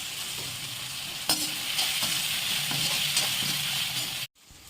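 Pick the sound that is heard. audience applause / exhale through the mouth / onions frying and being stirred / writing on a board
onions frying and being stirred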